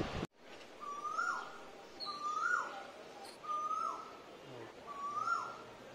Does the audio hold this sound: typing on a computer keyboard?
no